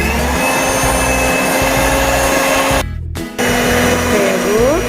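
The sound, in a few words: electric mixer mixing coconut cake batter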